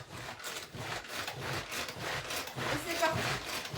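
A hand-cranked Tupperware mixer mixes flour. It makes a soft, rhythmic rasping whir in repeated pulses, fairly quiet and close by, with faint voices in the background.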